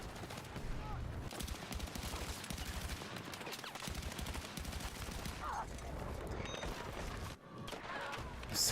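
Light machine gun fire in the Battlefield 6 video game rattles in sustained rapid bursts among dense battle noise, with a brief lull near the end.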